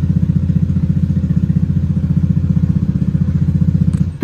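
A bored-up automatic motor scooter with a tuned ECU idles with a loud, steady, throbbing pulse up close, then a brief throttle blip and sharp mechanical noise at the very end.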